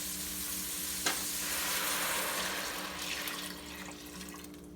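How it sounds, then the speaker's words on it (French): Vegetable broth pours into a pot of spinach soup with tender vegetables, making a continuous close rushing, splashing wash with a faint sizzle and no talk. "Ensuite, on ajoute notre bouillon de légumes"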